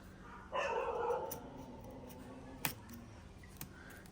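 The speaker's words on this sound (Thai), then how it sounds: "พอดี สุนัข เพื่อนบ้าน เอาเสียงดัง" A dog barks once in a short burst near the start, followed by a few faint clicks and knocks in an otherwise quiet room.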